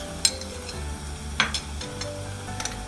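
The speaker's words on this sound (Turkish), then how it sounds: "Sürekli karıştırmak gerekiyor dibine tutmaması için" Acuka, a spiced pepper paste, being stirred in a pan, with a low continuous sizzle and a few sharp scrapes and taps of the spoon against the pan.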